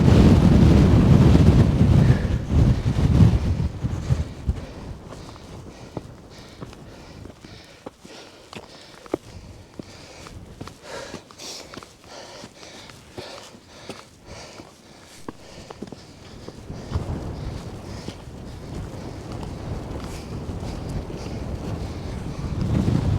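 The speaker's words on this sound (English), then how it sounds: "It is really windy." Strong gusting wind buffets the microphone on the Stob Binnein summit, roaring loud at the start, easing to a lower rush with scattered thumps and footsteps crunching underfoot, then building again toward the end; no one speaks.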